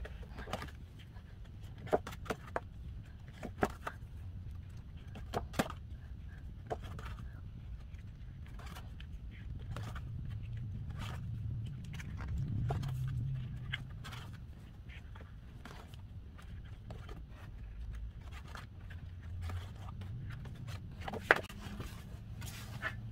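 Pages of a K-pop album being flipped, a series of sharp papery snaps and rustles at close range over a low background rumble, with no talking.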